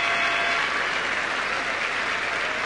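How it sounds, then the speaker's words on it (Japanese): Steady, dense applause from a large arena crowd fills the air after the closing spin of Yulia Vorobieva of Azerbaijan in the ladies' short program at the 1998 Nagano Olympic figure skating, with no pauses. "最後のスピン、そのスピンだけで拍手がうーっと湧き上がってきました"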